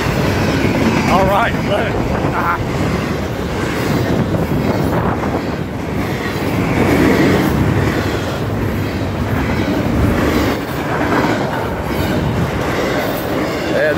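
A long freight train rumbles past nearby, wheels clacking and occasionally squealing in a constant, loud roar, while someone talks briefly over it.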